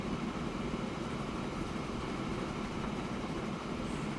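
A goods train running in the video game Train Fever, a steady, faint rolling rail rumble with a wheel-on-track texture that stays even from start to finish, with no talking.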